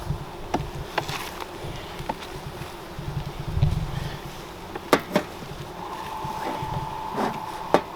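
Honey bees buzzing around a hive, a continuous low hum with individual insects droning past close by, plus a few faint clicks and knocks.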